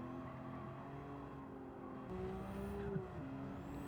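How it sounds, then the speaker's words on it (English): A racing car engine in Gran Turismo 7 hums steadily with gear shifts and a brief fluttering turbo chatter as it lifts off, game-style engine audio. "the turbo flutters just get me every time"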